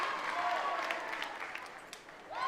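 Spectators applauding at a netball match between the Mendi Rays and USC Thunder: steady, fairly distant clapping that swells and eases over a couple of seconds, with faint talk underneath.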